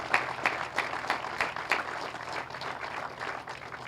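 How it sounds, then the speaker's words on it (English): Audience at a city athletic center ribbon-cutting ceremony giving a round of applause, a short spell of fairly sparse, uneven clapping with a few sharp claps standing out, heard at moderate distance. "Let's give a round of applause for all of the staff, all of you, and everybody in this community that's making that a reality."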